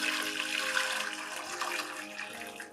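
Plain hot water poured into a container for frozen french fries, a steady splashing gush close by that gently tapers off toward the end, with no talking.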